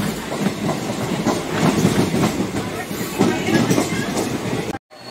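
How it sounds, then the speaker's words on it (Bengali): A passenger train on the way from Bangalore to Goa rolls along the rails, heard from inside the carriage as a loud, steady rumble with rhythmic clickety-clack over the joints before cutting off abruptly near the end. "ফার্স্ট প্ল্যাটফর্মে ট্রেনটা থামলো"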